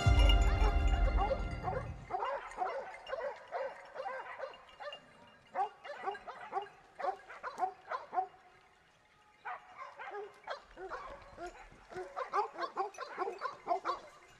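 Hunting dogs on a Spanish montería boar hunt bark and yelp in repeated irregular bursts at a distance, after a brief loud rumble at the start, with short quiet pauses between volleys.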